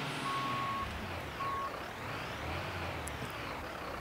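Reversing beeps from a fire truck in the Notruf 112 firefighting simulator game as it turns around, a steady repeating tone over a constant engine rumble and road noise.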